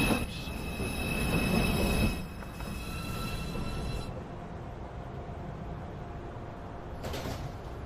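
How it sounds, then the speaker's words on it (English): A Manhattan-bound NYC subway 2 train at 207th Street screeches with loud wheel squeal, then rumbles steadily on the rails, with a hiss near the end. "This is a Manhattanbound 2 train"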